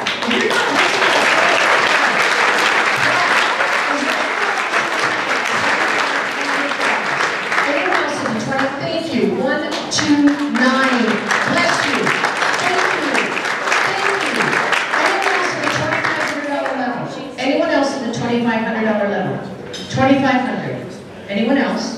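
Sustained audience applause fills a charity auction room, loud and continuous at first, then thinning into scattered clapping as an auctioneer's voice returns over it.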